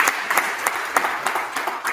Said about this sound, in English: a round of applause again for our presenter